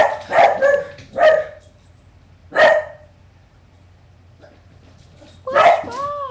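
Pet dogs bark indoors in four separate bursts, a quick pair, then a single bark, then a final one after a quiet gap, close and fairly loud with no talking over them.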